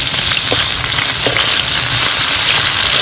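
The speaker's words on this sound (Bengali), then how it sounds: "এবার মাছটা ভেজে নেব।" Katla fish fries in hot mustard oil, giving a loud, dense, continuous sizzle with a couple of faint utensil taps near the start.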